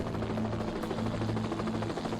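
An Anchorage Life Flight rescue helicopter hovers near a mountain slope for a cable lift, its rotor and turbine producing a loud, steady, throbbing drone with no talk.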